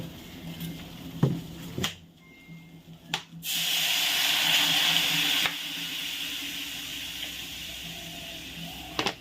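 Water is poured into a vegetable curry cooking in a pan before it is covered, giving a steady hiss and patter that runs for several seconds after a few soft clinks, close and fairly loud, with no talking.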